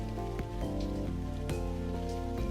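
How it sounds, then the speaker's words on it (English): Rain falls steadily in the video game Sweetest Monster, a soft hiss of drops on surfaces running beneath sustained musical chords that change a few times. "I'm not really a fan of all this rain."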